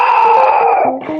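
A man imitates a dog with a single drawn-out howling bark, loud and close, ending in a short lower yelp.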